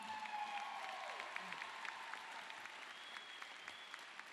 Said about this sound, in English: another round of applause for the rendering of our beautiful alma mater